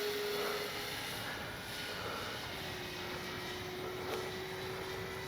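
A 1600mm RC P-51D Mustang warbird model drones steadily overhead at an outdoor flightline, a continuous engine hum with a slowly shifting tone and no voices.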